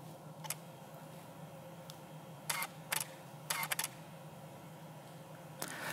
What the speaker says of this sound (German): Und dann nimmt die Kamera jetzt 3 Bilder auf.